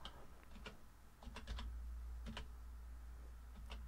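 Short bursts of clicky keystrokes on a computer keyboard as a file name is typed, several quick clusters separated by pauses, close and fairly quiet over a low steady hum.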